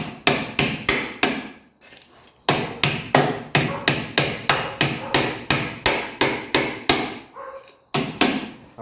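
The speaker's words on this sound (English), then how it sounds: "Always hammer in your bolts." Steel hammer repeatedly striking bolts while working on a 1995 Mercedes E300 racecar, sharp loud metallic blows in fast bursts of three to six, separated by brief pauses.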